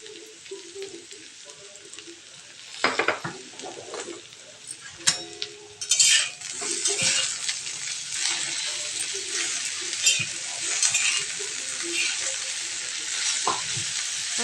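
Sliced okra (bhindi) with coriander powder and salt is stirred in a pan over a low gas flame, giving a steady soft sizzle with occasional scrapes and clinks of a spoon against the pan.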